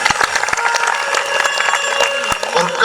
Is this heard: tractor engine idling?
no